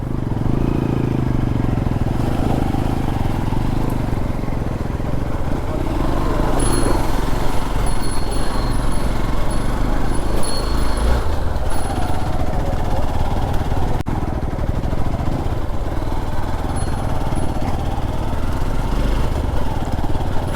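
A motorbike engine drones steadily and loudly on a ride through forest toward a waterfall, with constant rumbling and rattling over rough ground and no break in the noise.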